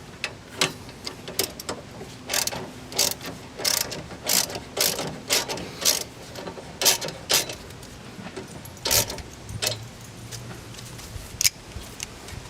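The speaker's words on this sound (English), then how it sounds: "Let's torque these down. So I'm going to torque them down so that it's snug but not super tight." Hand ratchet with a 15mm socket snugging the end link nuts on a Mazda3, a close series of crisp clicking bursts in an uneven rhythm with short gaps, and a low brief hum near the end.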